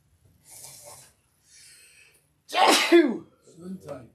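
One person sneezes sharply and close by after a couple of soft breaths, followed by a brief murmur.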